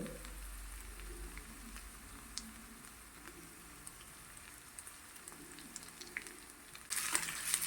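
Ground ginger and green chilies sauté in a pan, giving a soft, steady sizzle throughout with faint crackles, ending in a brief louder burst.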